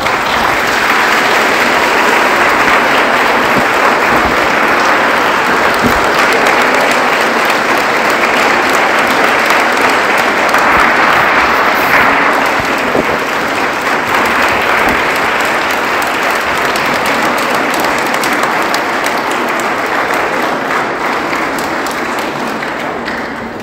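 An audience at an interfaith peace garden inauguration by a mosque applauds in one long, loud, unbroken roar that holds for over twenty seconds, fading only slightly at the end.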